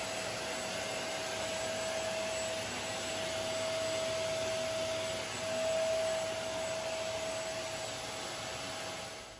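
A table saw's dust collection vacuum runs with a steady, even whoosh and a faint whine, holding at moderate level for the whole stretch with no speech.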